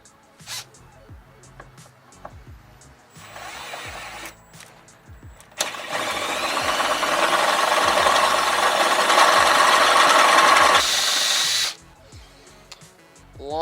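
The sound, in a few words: power drill drilling holes in Jeep Wrangler metal hood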